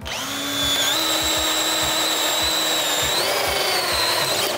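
A DeWalt power tool on a new 5Ah PowerStack battery runs loud and close with a steady, high motor whine that spins up at the start and steps to a higher speed partway through, with no talk.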